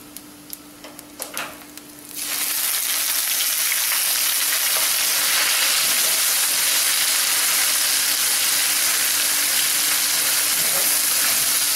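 Ground big-onion paste sautés in sesame oil for fish kulambu, a few light clicks giving way to a loud, even sizzle and hiss that carries on steadily without talk.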